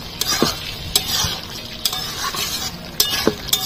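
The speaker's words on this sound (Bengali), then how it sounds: "ভালো করে মিশিয়ে নেব।" Pumpkin and potato curry with a spoon of ghee being stirred in a pan, soft bubbling sizzle under irregular metallic scrapes and taps of the spoon against the pan, close up with no voices.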